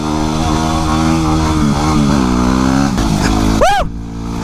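A Yamaha WR250R dirt bike engine revs hard and steady in an open field while the bike slides, the pitch rising and wavering close by, then cutting off sharply at the end.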